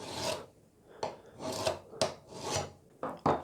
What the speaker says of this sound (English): And just rolling that burr back over.